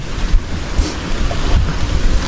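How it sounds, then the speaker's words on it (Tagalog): Ocean surf washes and rumbles steadily close by, with gusts of wind buffeting the microphone. "Hindi masyadong malakas yung alon."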